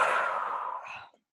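A single person's long, breathy yawn, loud at first and then trailing off after about a second, alone with no other sound.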